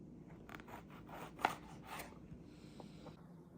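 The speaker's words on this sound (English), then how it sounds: "what you're going to do is cut off the stem part of the jalapeno" A sharp kitchen knife cuts the stem off a jalapeño, giving a few soft, close slicing and scraping sounds with one small crisp snap, all quiet and without speech.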